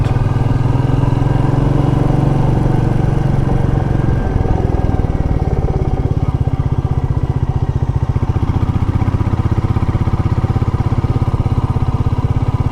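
A Royal Enfield Meteor 350 rumbles steadily at speed in second gear, a loud, close, continuous thumping single-cylinder drone with faint wind noise and little change in pitch.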